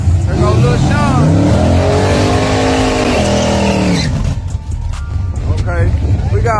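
A drag race car launches hard down the strip, its engine roaring loud and close with rising revs across the run, then fading into crowd and ambient noise as it pulls away.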